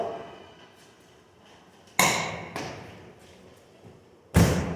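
Tight lug nuts on a car wheel being loosened with a wrench while changing a flat tire, heard as three sharp metallic thuds or knocks, the last one loud, separated by quiet pauses.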